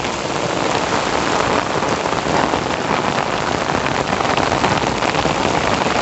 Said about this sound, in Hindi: तो बहुत तेज बारिश चालू हो गए